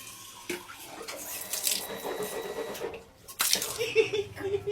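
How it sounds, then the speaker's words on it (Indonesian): Water runs from a household tap with an uneven splashing rush, close by and moderately loud, pausing briefly before flowing again. "Iku lho anakmu nyucup keran."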